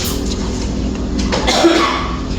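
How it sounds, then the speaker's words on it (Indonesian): One brief cough cuts through loud, constant background rumble, with a faint tonal squeak just after it. "Mohon maaf sebelumnya Bapak batuk ya."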